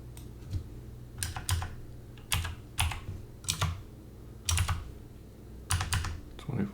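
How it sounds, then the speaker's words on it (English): Computer keyboard typing in irregular bursts of quick clicks with short pauses between, close and clear, while working in Revit on window drawings; no talking. "My typing skills are lacking"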